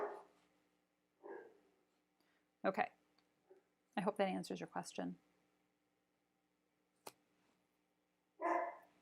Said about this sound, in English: I'm sorry about the dog in the background.